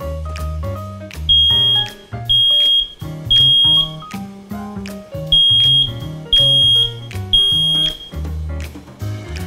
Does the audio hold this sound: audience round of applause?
no